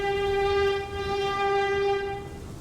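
A diesel railcar in Diesel Railcar Simulator sounds a steady, tonal horn close up, held for a couple of seconds over a low rumbling of the running train, fading slightly near the end.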